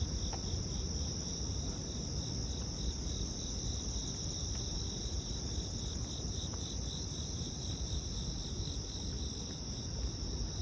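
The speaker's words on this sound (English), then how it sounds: "can you guys hear the crickets in the background?" Crickets chirp steadily on a Midtown Manhattan street at night, a shrill continuous trill over a broad wash of city rumble and traffic noise, with no voices.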